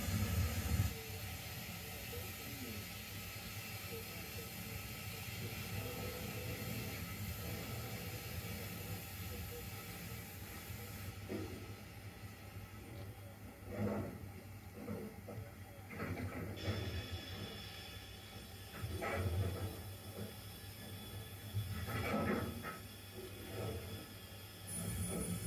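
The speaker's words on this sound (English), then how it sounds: "the departure engine moves off shed in anticipation" A 0 gauge model steam locomotive hisses and chuffs softly as it moves off shed on a layout, with a constant mechanical rumble and occasional faint voices in the background.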